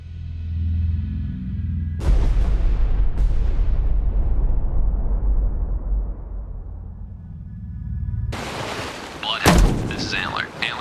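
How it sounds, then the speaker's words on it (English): Depth charges in Destroyer: The U-Boat Hunter set for a deep pattern, a low rumble followed by two heavy booming blasts that roll off slowly, then more loud bursts later, with voices speaking at times. "Ready depth charges. Deep pattern."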